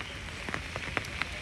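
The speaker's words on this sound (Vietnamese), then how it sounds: "Mưa rất là nhiều luôn." Heavy rain falls outdoors, a steady close wash of water with a few sharper drip and splash ticks scattered through the brief stretch.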